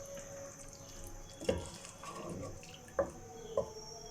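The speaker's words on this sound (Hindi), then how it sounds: "और इसमें 1 कप जो है वो पानी का ऐड कर देंगे।" A cup of water is poured into a pot of potato and egg curry over a high flame, giving a few brief, fairly faint splashes and trickles against quiet kitchen background.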